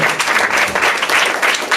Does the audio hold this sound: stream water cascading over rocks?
no